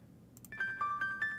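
A soft, bright electronic chime from the game Chrono Trigger rings out in a few sustained tones, steady and moderately quiet, after a brief rustle.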